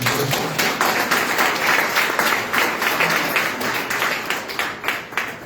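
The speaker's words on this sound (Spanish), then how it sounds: "Dando un aplauso al Señor" A church congregation applauds together, a steady dense wash of many hands clapping that holds without pause for several seconds, fairly loud and close, with no talk over it.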